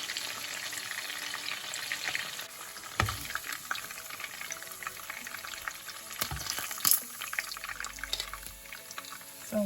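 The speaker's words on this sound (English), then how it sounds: "I'm just frying them here until they become a bit crunchy." Prawns fry in hot oil until crispy, giving a steady close crackling sizzle with occasional sharper pops and stirring clatters throughout.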